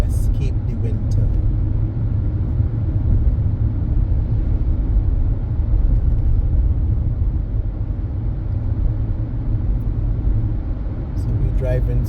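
Steady low rumble of a car's engine and tires on a road while driving through St. Thomas, Barbados, continuous and fairly loud from inside the vehicle, with a voice talking over it.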